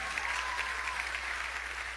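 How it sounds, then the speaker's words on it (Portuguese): Applause from a church congregation at a worship service with a pastor, steady dense clapping throughout, fairly loud and continuous with no break. "Pastor Renato Gomes, dê um aplauso forte pela vida desse homem de Deus."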